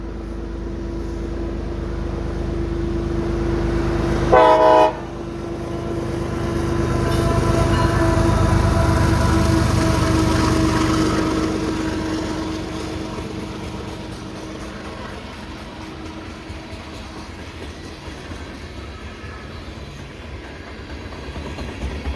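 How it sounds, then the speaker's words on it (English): A long freight train carrying anhydrous ammonia rumbles past with a rising and fading roar and steady clickety-clack of wheels, preceded by a brief horn-like tone. "This is the anhydrous ammonia train."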